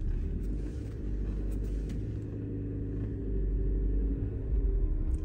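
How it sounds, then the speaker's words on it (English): A Nissan Micra with a faulty right front wheel speed sensor idles low and steady while reversing, a soft engine rumble that swells slightly toward the end. "I'm going to reverse the car."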